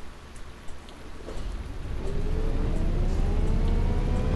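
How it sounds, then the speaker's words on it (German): Rain in the OMSI Hamburg bus simulator game starts as a light patter and swells into a dense, steady downpour, with a low engine-like rumble underneath and no speech. "solange es noch Regen und kein Schnee ist"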